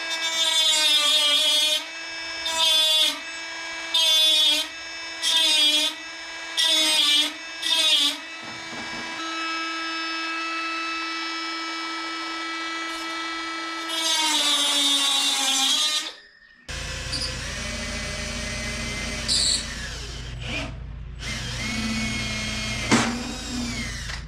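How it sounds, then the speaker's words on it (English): A power tool buzzes in repeated short bursts, then runs in a longer steady whine while cutting and drilling holes in parts for an e-bike dog sidecar, ending in a rougher, noisier stretch of tool work. "I'm gonna cut this and drill a couple of holes into that"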